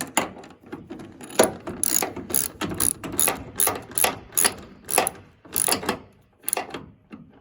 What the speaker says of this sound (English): Tighten back down.